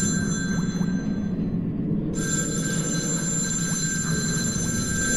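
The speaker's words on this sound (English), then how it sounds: "Why is there a phone down here?" A telephone rings in a horror video game, a repeated bell-like ringing over a constant low rumbling hum, with no one talking.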